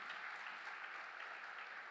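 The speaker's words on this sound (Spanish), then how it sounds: "Dele un fuerte aplauso si se lo quiere dar." A church congregation applauds during a sermon, producing a faint, even patter of clapping that sounds distant and holds steady for a couple of seconds.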